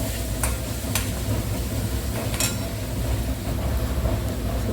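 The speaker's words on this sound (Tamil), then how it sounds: "வெங்காயம் பூண்டு போட்டுட்டு கருவேப்பிலையும் போட்டுடணும். கொஞ்சம் நல்லா வதங்கினதுக்கப்புறமா நல்லா வதக்கும்." Onion, garlic and curry leaves sauté in a pan, giving a continuous close sizzle with a low rumble under it and a few sharp crackles and scrapes as the mix is stirred.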